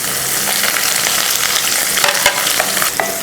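Green chillies sizzling in hot oil with curry leaves and chopped onion for a South Indian okra stir-fry, a steady close frying hiss punctuated by scraping stirs and clinks of the spoon.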